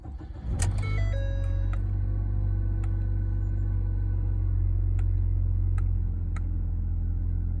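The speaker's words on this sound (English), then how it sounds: "Let's see how the car sounds." Ford Fusion with about 181,000 miles idling steadily after a start, a low constant engine hum close by, with a few light clicks and taps early on and no talk.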